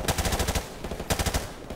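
Two rapid bursts of automatic gunfire in Call of Duty: Modern Warfare Remastered, each a quick run of sharp, evenly spaced shots, close and loud, with a short gap between bursts.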